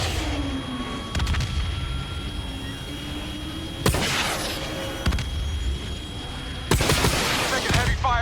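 Missiles firing and exploding in Call of Duty Black Ops 3, with sharp bursts and booms breaking over a continuous roar of aircraft engines, loud and close, several blasts spread across the clip.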